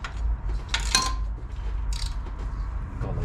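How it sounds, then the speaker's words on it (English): A 3/8 ratchet works against the belt tensioner on a 2005 Chevy Safari, giving a few short sharp metallic clicks and a creak close by, spaced out over a few seconds with no talking. "Use a 3/8 ratchet to remove the tension out of the belt tensioner right here."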